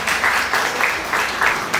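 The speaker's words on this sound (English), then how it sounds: "Let's give her a huge round of applause" Audience applause at a college techfest case presentation event, a brief burst of many people clapping in a hall, loud and steady with slight swells, no talking over it.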